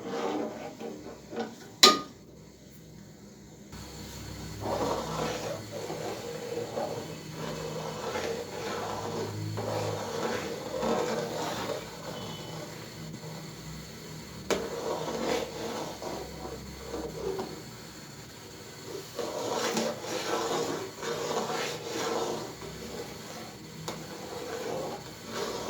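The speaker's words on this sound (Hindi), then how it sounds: "तो हल्का हल्का चम्मच बीच में आप मूव करते रहें" Spoon stirring carrot and rice kheer in a pot, soft scraping and rubbing strokes repeating steadily at moderate loudness, alone with no talk.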